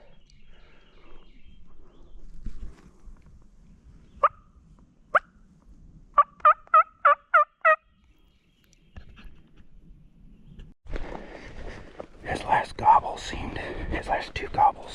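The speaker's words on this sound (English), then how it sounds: "His last two gobbles seemed like they weren't as close as maybe the other ones" A wild turkey gobbler gobbles in the Alabama woods in April. A few isolated calls come first, then a quick rapid series, and later louder, closer calls arrive over rustling and soft movement noise.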